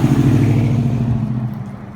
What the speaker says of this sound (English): Oh, the loud truck.